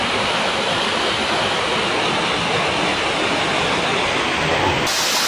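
Waterfall plunging from a great height at a hidden forest spot, a loud, steady broadband roar of falling water filling the whole clip, close and unbroken with no talk.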